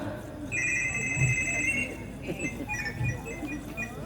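A mobile phone rings with a repeated electronic ringtone of bright, steady tones, heard clearly over low voices and room noise.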